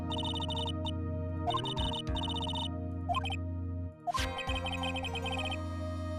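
Phone ringing in a video game, an electronic bell ringtone in repeated bursts separated by short pauses, clear and close, with low steady background tones underneath.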